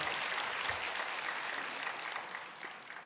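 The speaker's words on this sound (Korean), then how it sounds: "우리 시온 찬양대의 은혜로운 찬양 하나님께 영광의 박수 올려드립니다." A church congregation applauds after a choir's praise song, steady sustained clapping from many hands filling the sanctuary at moderate distance with no voices over it.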